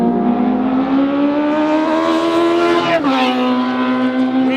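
A prototype race car drives past with a loud, steady, high-revving engine drone that drops sharply in pitch partway through, then continues at a lower note.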